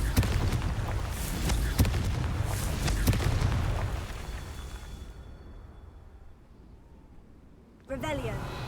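A Confringo fire spell in Hogwarts Legacy detonates with a loud booming burst and crackling tail that fades over several seconds, then a second impact hits near the end; a voice calls out over the effects.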